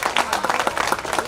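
An audience at a school gathering claps continuously, a dense patter of many hands throughout at moderate loudness, with a voice speaking faintly over it.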